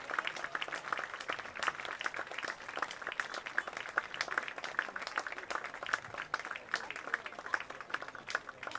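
Crowd applause in the stands at a high school football game, Birmingham Groves against Birmingham Seaholm, steady scattered clapping at a moderate distance as an injured player is carried off the field.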